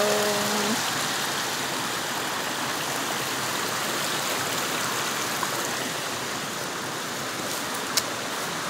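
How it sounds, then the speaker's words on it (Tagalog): A waterfall heard from inside a car driving around town in Washington on a rainy day: a steady, broadband rushing roar over a low engine hum, with a brief tone at the start and a faint tick near the end. "There's the waterfall."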